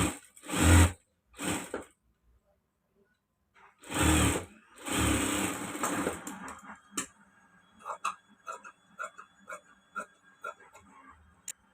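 A sewing machine stitches a folded half-inch cloth strip. Short bursts of sound and a voice come first, then a quick run of light ticking stitches that fades.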